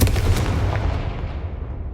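A Confringo spell blast in the Hogwarts Legacy game, a loud booming burst at the start whose rumble quickly decays into a fading tail, with no voices.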